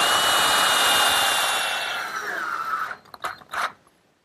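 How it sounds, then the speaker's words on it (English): A power drill drives 2-inch screws through pre-drilled holes to fasten a wooden cleat on a workshop hutch: a steady, loud motor whine that winds down after about three seconds, then a few short, sharp bursts. "I'll attach it with some 2-inch screws and pre-drilled holes"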